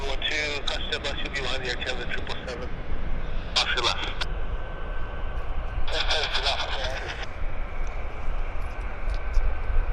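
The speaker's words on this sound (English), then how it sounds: "Jets aplenty." Jet airliners at Vancouver Airport give a steady, loud engine roar throughout, close by, while a person talks over it in short bursts.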